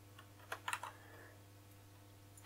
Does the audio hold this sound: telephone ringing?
no